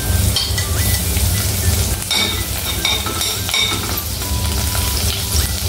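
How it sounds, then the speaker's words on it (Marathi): Garlic sizzles loudly in hot oil in a pan, a dense, constant crackle with occasional spoon scrapes and clinks. "तेल गरम होते। आता आपण याच्यामध्ये सगळ्यात पहिले आपण याच्यामध्ये लसूण घालूया।"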